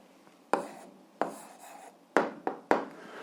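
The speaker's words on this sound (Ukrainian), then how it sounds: "Записуємо відповідь" A pen or pencil writes down an answer to a math problem, with five short, crisp scratching strokes spaced irregularly against a quiet background. No one speaks.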